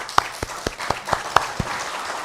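Scattered, sparse claps from a church congregation welcoming guests at a Sunday service, a handful of separate hand claps spaced across a couple of seconds rather than full applause.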